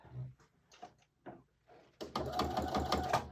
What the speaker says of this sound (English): On my machine, what I'm going to do is I'm just going to line up this edge of the foot against the edge of my fabric, and I'm going to sew all the way around